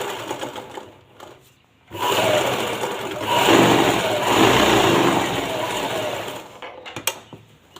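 A sewing machine double-stitches a simple round neckline in one loud, close, continuous run of about four and a half seconds, preceded and followed by quieter handling clicks and fabric movement.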